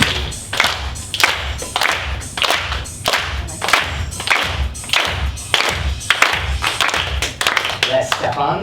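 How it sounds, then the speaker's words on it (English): Second-grade children clap together on a steady beat in a school music performance, a rhythmic series of sharp, evenly spaced claps filling the room. "Clap on the beat."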